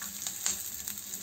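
Ingredients frying gently in a pan while being softened, not browned, for white sauce pasta; a soft, steady sizzle with a few faint scraping touches, close and alone without speech.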